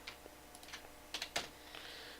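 Light computer mouse and keyboard clicks at a desk during CAD modeling work, a scatter of faint, quick taps with a few sharper clicks in the middle, close and quiet with no talk.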